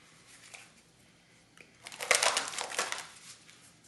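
Oracle cards being handled and shuffled, a soft papery riffle that builds to a short burst of crisp crinkling and rustling close by, then fades, with no talking.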